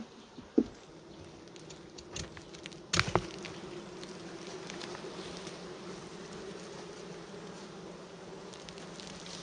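Honey bees buzzing around a hive while being moved to a new hive, a steady close insect drone with a few sharp knocks and clicks near the start.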